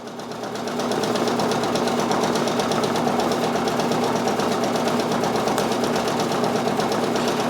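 A Brother Persona PRS100 embroidery machine stitches out a design with a loud, fast, steady mechanical rattle and hum. The needle rhythm is even and continuous after a brief ramp up at the start.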